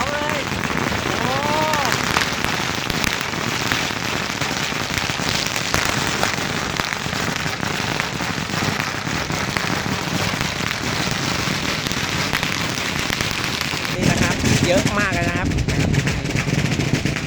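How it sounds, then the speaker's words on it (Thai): Firecrackers go off at Wat Chedi Ai Khai temple in Thailand as a long, dense string of rapid crackling pops. The bursts are steady and loud throughout, with a heavier flurry near the end and a voice faintly under them. "จุดประทัดด้วยครับ"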